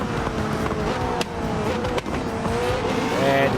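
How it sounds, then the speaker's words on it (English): A race car in Gran Turismo 7 screams at high revs with several sharp gear shifts, each a sudden drop and climb in engine pitch, plus a brief tire chirp, loud and close throughout. "You can hear Watson shifting those gears"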